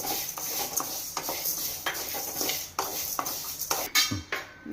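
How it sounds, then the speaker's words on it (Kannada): Coriander seeds dry-roast in a pan for homemade puliyogare powder, with repeated scraping and clinking strokes of a spatula against the metal pan over a faint background hiss. "ಹುರಿದು ಹುರಿದುಕೊಳ್ಳೋಣ ಫ್ರೈ ಮಾಡೋಣ ಸ್ವಲ್ಪ ಹುರಿದ ನಂತರ ಧನಿಯನ್ನು ಸೇರಿಸ್ಕೋಬೇಕು"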